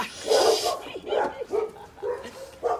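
A dog barks in short bursts and whimpers on a leash, the yelps coming in uneven clusters close by, with a person's voice briefly mixed in.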